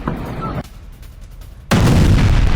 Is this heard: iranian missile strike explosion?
yes